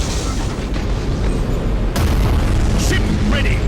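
Spaceships blow up in the space battle game Battlefleet Gothic Armada, heavy booming blasts over a dense rumble, with a sharp loud burst about halfway through.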